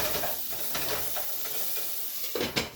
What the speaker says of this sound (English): So the green peppers are going to cook a little bit.